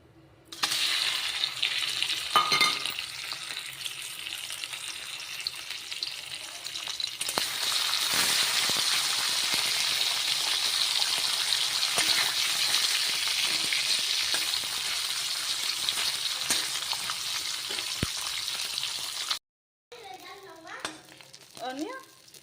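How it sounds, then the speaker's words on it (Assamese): Singhi fish laid into hot oil gives a steady, loud sizzling hiss that runs unbroken for about twenty seconds, then cuts off briefly before fainter crackling resumes. "আৰু তেলখিনি গৰম হ'লে মই মাছটো বহাই দিম।"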